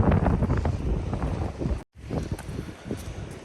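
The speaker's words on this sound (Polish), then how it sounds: "Ten wiatr po prostu ścina." Strong cold wind on the coast at St Abbs, Scotland, buffets the microphone in rough, low rumbling gusts, loud and close, with a brief cut-out midway.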